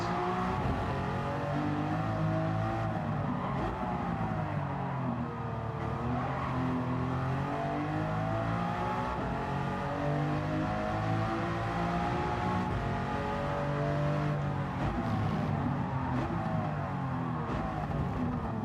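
A race car engine in Gran Turismo 7 drones loudly and continuously, pitch rising and falling through the gears during a PRT GT Championship race, with no talking over it.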